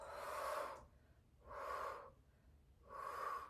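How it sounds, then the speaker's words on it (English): A person in a chair yoga class breathes slowly and audibly, three long breaths in a steady rhythm separated by short quiet gaps, close and soft with no talking. "and breathing out."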